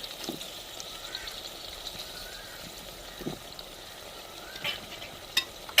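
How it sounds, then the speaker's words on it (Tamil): Cut potatoes and masala stirred and frying in a pan of South Indian egg curry, a faint steady sizzle with a few soft scraping stirs, no talking. "நம்ம வெட்டி வச்ச உருளைக்கிழங்கையும் சேர்த்துக்குருவோங்க"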